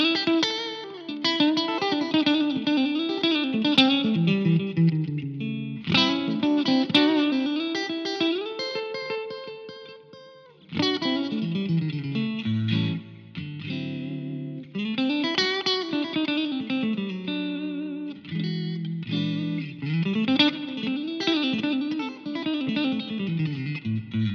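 Electric guitar through a Line 6 Helix and Powercab, played alone, chords and melodic lines ringing out with a wet, washy reverb tail and some effects shimmer, steady and fairly loud.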